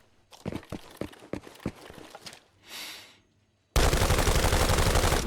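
Heavy-recoil gunfire in the tactical shooter Arena Breakout: Infinite, a close string of sharp shots at an uneven pace, followed by a brief whoosh and then a dense, loud sustained burst of noise.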